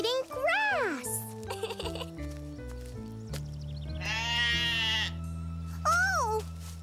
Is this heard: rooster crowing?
no